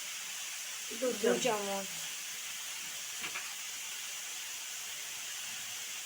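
Spices fry in a pan for a pea and beet curry, giving a faint steady sizzling hiss throughout while someone briefly speaks over it early on.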